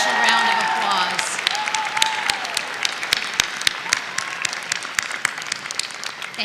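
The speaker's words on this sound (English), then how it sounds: "Please join me in recognizing the accomplishments of these students with a special round of applause." A crowd at a university fall commencement ceremony applauds the graduating students, steady clapping filling a large hall, with some voices and crowd murmur underneath at the start.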